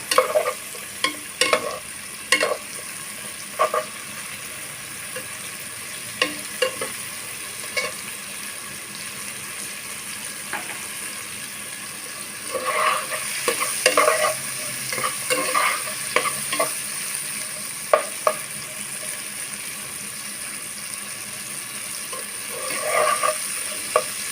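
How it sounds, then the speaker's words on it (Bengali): Sliced bitter gourd fries in a pan, turmeric-dusted, with a constant sizzle broken by repeated spatula stirs and scraping strokes, close and fairly loud, in bursts across the span. "আমি একটু সময় নিয়ে এটা লাল লাল করে করলাগুলা ভেজে নেব"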